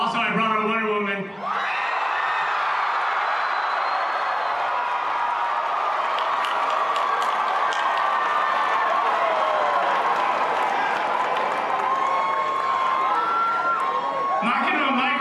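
A large Comic-Con 2014 convention crowd cheers, whoops and applauds continuously for Gal Gadot, a loud sustained roar with a few high shouts riding on top.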